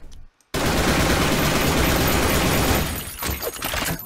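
Rapid automatic rifle fire in the online shooter Blackshot Online, a loud continuous burst lasting about two seconds after a brief silence, then trailing into a few scattered shots and echoes.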